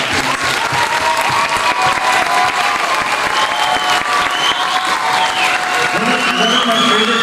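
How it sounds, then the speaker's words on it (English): Audience applause for the singers at a winter music festival concert, a steady loud wash of clapping that holds for the whole stretch, with crowd noise and some voices mixed in. "a round of applause for them"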